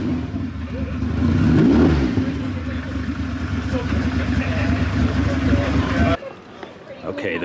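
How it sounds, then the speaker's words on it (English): Broad low rumble of a V8 car engine swelling in a rev around two seconds, then holding a steady throaty drone beneath crowd babble at a car show before dropping away near the end. "That's that V8."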